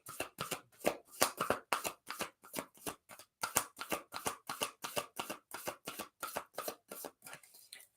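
Oracle cards are shuffled by hand in a quiet room, a rapid series of crisp close riffling and slapping bursts in a steady rhythm for several seconds, tapering off at the end with no talking.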